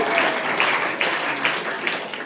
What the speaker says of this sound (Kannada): ಈ 3 ವಿದ್ಯಾರ್ಥಿಗಳಿಗೆ ಜೋರಾಗಿ ಚಪ್ಪಾಳೆ ತಟ್ಟೋದ್ರ ಮೂಲಕ ಧನ್ಯವಾದಗಳನ್ನು ಸಲ್ಲಿಸೋಣ.